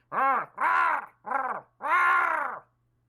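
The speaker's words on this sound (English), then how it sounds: "you hear some thumping and chattering and squawking." Four loud, harsh, drawn-out squawking calls in a row, like a large jungle bird or animal cawing, close and alone without other sounds.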